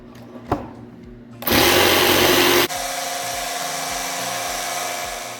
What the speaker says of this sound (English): I'm just going to run the jigsaw right through here.